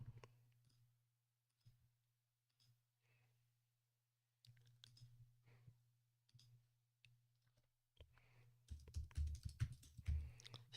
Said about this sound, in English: I'm going to type this link in here for y'all